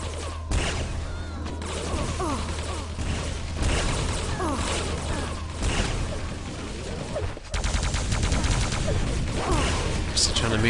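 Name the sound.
railgun and rocket launcher fire in a video game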